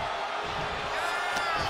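A wrestling arena crowd at a WWE six-man match roars in a loud, sustained wall of cheering that swells slightly, with a voice faintly mixed in.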